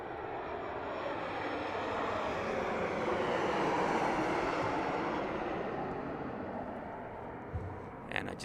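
Southwest airliner landing at Las Vegas Harry Reid airport, a broad jet engine roar that swells and slowly fades as it passes at a distance, with no talking over it.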